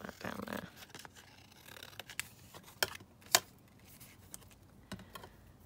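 Scissors snip through paper while trimming a vintage piece for an autumn junk journal, making a handful of scattered, quiet, sharp cuts with faint rustling between them and a short bit of background noise at the start.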